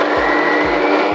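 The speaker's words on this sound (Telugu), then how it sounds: "ఈ విధంగా గ్రైండ్ చేసుకోవాలి." Mixer grinder blending green chillies, peanuts, ivy gourd and tomato pieces for a chutney, a loud, steady, close whirring roar that runs throughout without a break.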